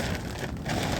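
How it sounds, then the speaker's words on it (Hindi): Steady patter of light rain falling outdoors, a dense, even hiss with soft drop textures filling the whole moment, fairly close and continuous with no voices. "तो यहाँ पे भी हल्की सी अब बारिश लगनी शुरू हो चुकी है"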